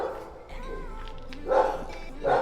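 An aggressive dog behind a house barks loudly and close in a couple of sharp outbursts, with someone talking nearby between the barks.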